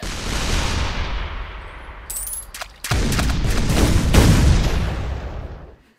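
A triple bomb fired in the artillery game ShellShock Live: loud booming blasts with a sustained rumbling roar, a sharp burst near the middle and a second heavy salvo building before fading out.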